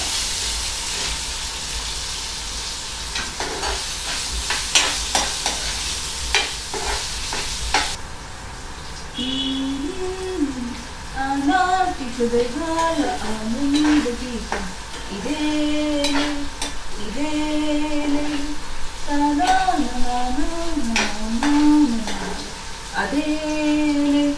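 Onions and dried red chillies sizzle and crackle in hot oil during tempering, a dense frying hiss for the first several seconds before melodic music takes over.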